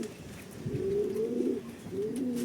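A racing pigeon coos close by in a low, soft, rolling call, repeated twice, with faint ambient noise beneath.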